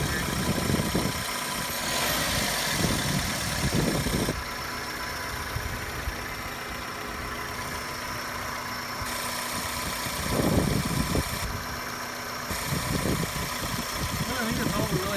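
A 2001 Toyota Corolla LE engine idles with a steady, even mid-low hum close by, the drone continuous throughout while people talk over it at intervals.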